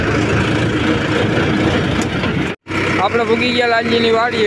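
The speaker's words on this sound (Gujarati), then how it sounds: "આ છે આપણું ટ્રેક્ટર મહિન્દ્રા." A Mahindra tractor engine idles close by on a village trip to a farm, a steady low rumbling drone that cuts out briefly for a moment, with someone talking throughout.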